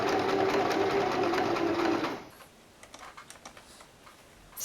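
A domestic sewing machine stitches through fabric for a face mask, a loud fast steady whir for about two seconds, then it stops and leaves only faint clicks and handling noise.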